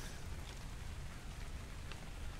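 Soft, steady rain patters in Ark: Survival Evolved, a faint continuous hiss of drops with no breaks or voices.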